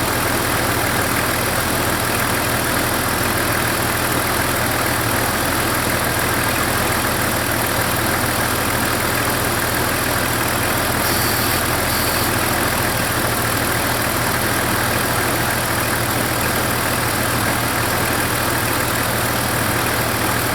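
A Jeep engine idles continuously while warming up, with a low, even rumble and no notable changes, heard up close throughout.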